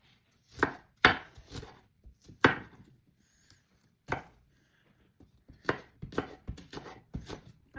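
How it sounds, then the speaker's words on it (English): A knife dices shallots on a cutting board in sharp, irregular chops. Quick clusters of knocks come up close, with short pauses between them and no talking. "We're going to dice them."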